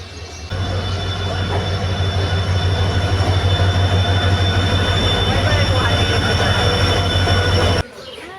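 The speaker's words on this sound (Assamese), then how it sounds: "সেয়া আহি গ'ল আমাৰ ট্ৰেইন" A train rumbles loudly into a station, a steady low roar with squealing wheels and rattling cars, then cuts off abruptly near the end.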